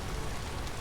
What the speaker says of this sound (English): yeah, the typical spring rain